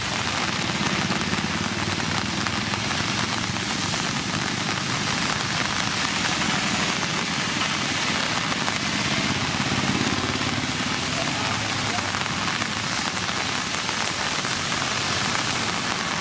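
Heavy rain pours down steadily around Perinthalmanna as the area floods, a dense, unbroken hiss of water drumming on surfaces that stays loud and constant throughout with no voices.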